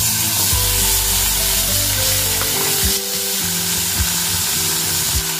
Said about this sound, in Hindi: इसमें हम पनीर को डाल करके हल्का सा सॉटे कर लेंगे